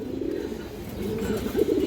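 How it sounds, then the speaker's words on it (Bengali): A black Bagha pigeon calls up close with a low, throaty coo, a steady rolling murmur that rises into a slightly louder phrase at the end, with no talk. "এই যে দেখেন কবুতরের আগে ডাক দেখেন"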